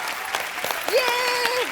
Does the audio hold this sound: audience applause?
yes